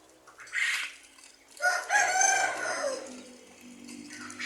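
Loud quail calls ring out in a few bursts, shrill and chattering, fairly close with some background noise between calls.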